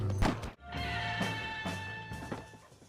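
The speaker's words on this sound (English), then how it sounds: "Let's get to the horses." Horses whinnying loudly in Red Dead Redemption, several drawn-out neighs close by with faint hoof clops underneath and no speech.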